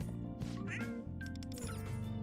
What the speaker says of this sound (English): And you're hanging out with a cat